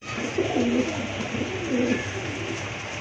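Pigeons coo in low, throaty, rolling phrases, several birds overlapping at close range over a steady background hum, at a pigeon seller's loft where pairs are offered for sale.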